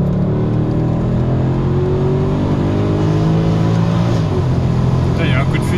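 A Mercedes C63 AMG Pack Performance drones steadily under acceleration from inside the cabin, its engine note rising and settling, with a voice talking over it.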